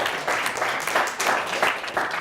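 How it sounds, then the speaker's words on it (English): A crowd applauding steadily after a high school quiz show match, dense clapping filling the room without a break. "a big round of applause for both teams"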